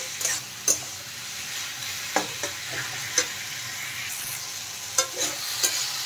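Salted bottle gourd is stir-fried in a pan, a bright continuous sizzle with repeated sharp scraping strokes of a spatula every second or so, close and clear.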